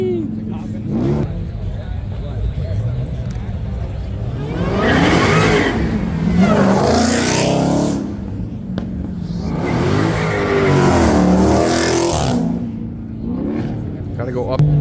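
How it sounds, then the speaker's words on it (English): Audi RS3 at a Supercar Saturday car meet revs hard in two long, loud bursts with roaring exhaust and rising engine pitch, close to the listener, as people talk excitedly around it. "Loudest RS3."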